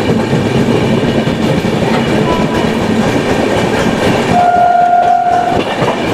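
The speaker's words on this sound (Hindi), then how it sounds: "तो फिलहाल चलिए अब ट्रेन की स्पीड बढ़ाने देते हैं" The Bhubaneswar Express runs at speed with a loud, continuous rumble and clatter of wheels on rails, and a sustained horn blast sounds near the end.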